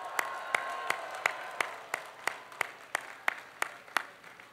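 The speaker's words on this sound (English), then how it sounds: "Give them a round of applause." Slow, evenly spaced claps at a university commencement ceremony, about a dozen sharp hits, faint and somewhat distant, with no talking.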